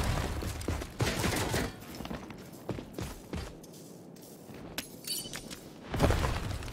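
Rogue Company gameplay with a glass shield shattering amid rapid gunfire bursts and footsteps, sharp crashes and rattling volleys at close range, no talk.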